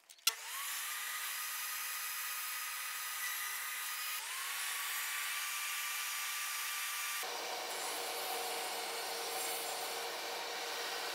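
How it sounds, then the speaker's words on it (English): Saw blade cutting a wooden lap joint in several passes, each a sustained high-pitched whirring cut with a rising whine at the start, the three passes running back to back and close. "I'm just going to take multiple passes, raising the blade each time just to get it to meet into the corner"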